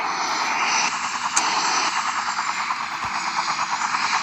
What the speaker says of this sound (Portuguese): alguém tá dirigindo helicóptero